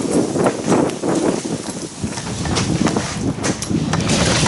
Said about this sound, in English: The wind nearly took the awning away